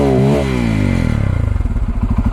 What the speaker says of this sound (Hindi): बाकी this is the exhaust note,